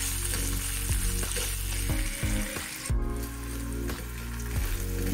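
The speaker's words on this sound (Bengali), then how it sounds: "ঘি এর মধ্যে ভালো করে এগুলোকে একটু ভেজে নিতে হবে" Grated coconut and cashews fry in ghee with asafoetida in a pan for ven pongal, producing a steady close sizzle with repeated spatula scrapes and stirring knocks.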